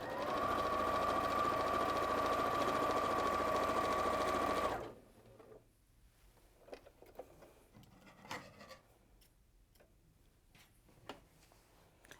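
Domestic sewing machine stitching horizontal quilt fabric strips, a loud steady motor hum running continuously for about five seconds before cutting off, followed by quieter rustling and handling of fabric.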